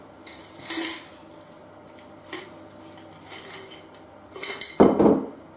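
Hands rummage through a metal jar full of two-part rivets, giving scattered bursts of close metallic clinks and jangles with pauses between, ending in a louder rattling shake.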